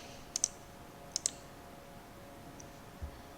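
A computer mouse clicks at a desk during audio software work: two quick pairs of crisp clicks, then a faint single tick, quiet and close over low room hiss.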